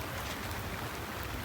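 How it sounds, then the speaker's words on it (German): Heavy rain on a boat trip across Bacalar lagoon in Mexico, a steady broadband patter and hiss of drops, even and unbroken, with no voices. "es regnet eigentlich richtig doll"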